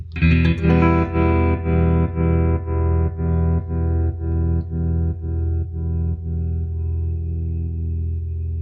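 A sustained electric guitar chord rings through a 1967 Fender Bandmaster amp, its vibrato at slow speed making the volume pulse in a slow, even wobble that gradually fades.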